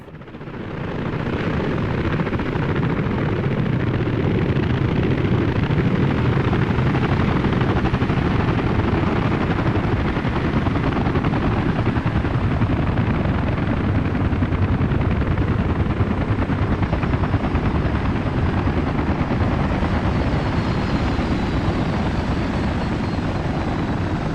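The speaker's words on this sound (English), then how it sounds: "you have to stand around waiting until a helicopter comes around" A helicopter arrives in the Soviet-era city-building game Workers & Resources: Soviet Republic, a steady, dense rotor-and-engine roar that holds at full loudness for the whole stretch with no talk over it.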